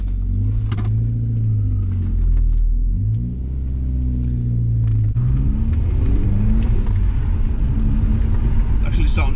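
Ford Escort Cosworth engine rumbling steadily while driving, a low continuous drone with a rising rev in the second half, loud and close throughout.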